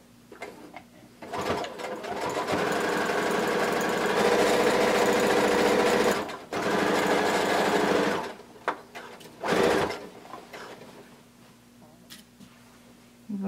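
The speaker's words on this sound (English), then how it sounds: "we're going to sew across the bottom of our jacket" A sewing machine stitches across the bottom hem of a blanket coat, running in several close, loud bursts of steady whirring with short pauses between them.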